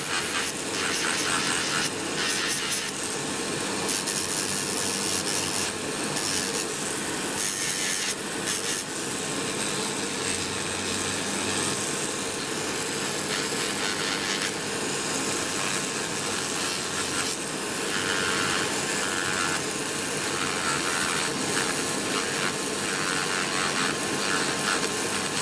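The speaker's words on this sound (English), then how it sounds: "so impressed with that extractor" A nail dust extractor runs nonstop while nails are filed: a constant close fan whir with scratchy rasping strokes layered over it, and no voice.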